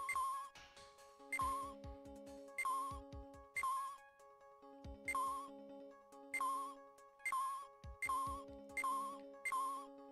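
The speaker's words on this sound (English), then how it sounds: "Oh, that's just the phone." A telephone ringing in the Ace Attorney video game, repeated electronic ring bursts in a steady rhythm, each a trilling chime over a short melodic figure, clear with no talking.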